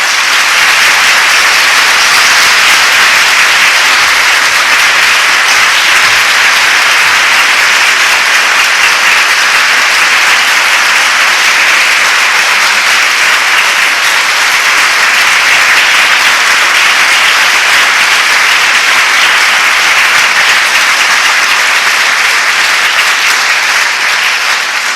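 A large audience applauding during a legislative oversight committee hearing in a packed room, a dense and loud sustained wash of clapping that runs without a break for the whole stretch.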